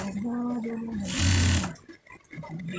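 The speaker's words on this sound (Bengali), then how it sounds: "দুইটা হাতার মুখ এভাবে সেলাই করে দিবেন" A sewing machine stitches the sleeve openings of a panjabi in a short, close burst of motor whirr, with a person speaking before and after it.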